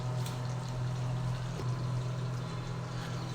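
Ghee poured into a pan of doi katla, a Bengali yogurt-based catla fish curry, giving a steady, close liquid pour over a continuous low hum of the cooking, with no talk.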